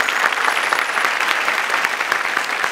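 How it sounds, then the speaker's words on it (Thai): An audience at a Thai awards ceremony applauds steadily, a dense even clatter of many hands clapping at close range with no pauses. "ขอเสียงปรบมือด้วยครับ"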